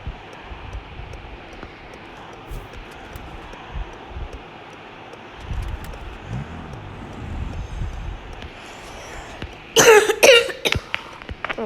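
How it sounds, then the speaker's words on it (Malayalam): One harsh cough bursts out near the end, close to the microphone, after a stretch of low, steady hum and rumble. "എനിക്ക് ചെറിയ ചുമയുണ്ട്"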